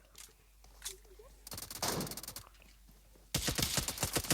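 Rapid bursts of S12 shotgun fire in an online video game, loud, clustered volleys with brief gaps, the last stretch a dense rapid string of blasts.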